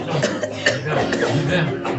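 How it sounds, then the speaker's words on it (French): A person coughing forcefully on command during a religious deliverance session at a seminar, a run of harsh, rough coughs close by mixed with voices in a busy room. "Et toussez maintenant violemment."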